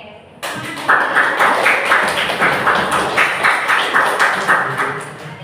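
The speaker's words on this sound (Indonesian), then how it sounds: "Tepuk satu, tepuk dua, tepuk tiga, tepuk satu, tepuk dua, tepuk tiga" A classroom of students claps together in a counted pattern of one, two and three claps, repeated as a steady rhythmic sequence, loud and close, while a voice calls out the count.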